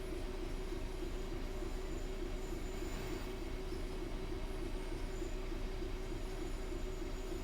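A Class 66 freight locomotive running on the West Coast Main Line toward Milton Keynes in Train Sim World 5, a steady low rumble of wheels on rails with a constant droning tone, faint and continuous with no talk.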